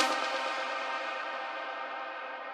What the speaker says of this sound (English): Went all out with the reverb size and decay